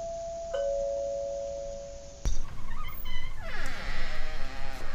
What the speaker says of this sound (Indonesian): tiba-tiba terdengar suara bel pintu berbunyi